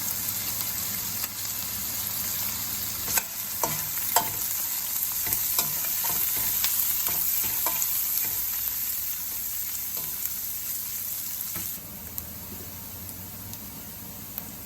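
Onions frying in oil with turmeric for a spinach curry, a steady close sizzle with broadband hiss running throughout, punctuated by a few sharp clicks of stirring, and no one talking.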